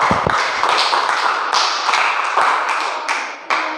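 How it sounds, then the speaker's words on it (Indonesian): A class of students claps hands in a classroom, the claps dense and close with a few louder bursts standing out. The clapping fades slightly toward the end, and no one speaks. "Tepuk tangan dulu untuk kalian semuanya."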